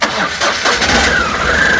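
A 2021 Ashok Leyland Dost light truck engine cranks and catches, then settles into a steady, loud running note with a rising whine, close by, and no voices.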